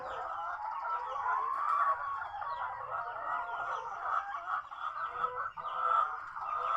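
Chickens cluck steadily and continuously, a dense flock murmuring and chattering close by with no voices over it.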